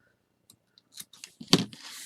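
Scissors snip off a strand of yarn on a loom-knitted toy, a few faint handling ticks leading to one sharp close cut followed by a brief soft rustle.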